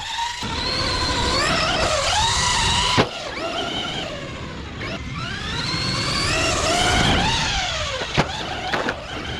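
A Traxxas Stampede 4x4 RC truck with knobby tires tears across dirt, its electric motor whining up and down in repeated rising and falling sweeps, with a few sharp knocks from bumps along the way.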